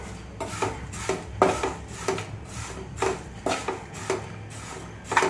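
Poha chivda stirred in a pan on the stove, a spoon or spatula scraping and knocking against the metal in a steady rhythm of close, crisp strokes, with no talking.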